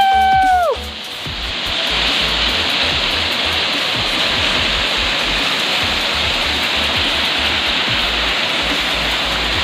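Sita Kund waterfall in Baripada roars in a dense, constant rush of falling water, loud and close, after a brief tonal sound at the start.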